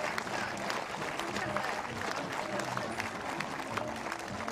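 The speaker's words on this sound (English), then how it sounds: "You hear the crowd getting into it. They're really cheering on that this German team." Crowd at an archery recurve team World Cup final in Berlin cheering and applauding for the German team, a steady sustained roar of voices and clapping with a commentator's voice faintly mixed in.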